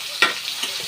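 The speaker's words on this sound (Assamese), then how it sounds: "পিঁয়াজ আধা ভাজা হৈ গ'ল।" Onions fry in hot oil until half browned, a close, steady sizzle with a sharper scrape or stir burst near the start and a few softer clicks after.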